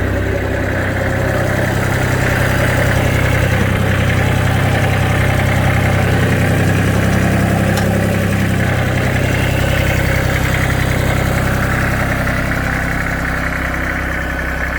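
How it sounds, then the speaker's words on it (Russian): Japanese mini tractor idling with its power take-off shaft running, a steady loud low engine drone with constant vibration and no change in pace. "Вал отбора мощности работает."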